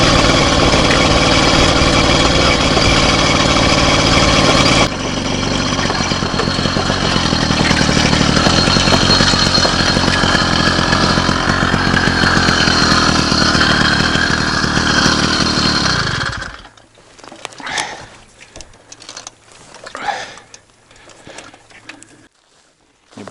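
A motorized bicycle fitted with an F50 engine runs steadily and loudly up close for about sixteen seconds, then cuts out abruptly, leaving faint scattered outdoor sounds.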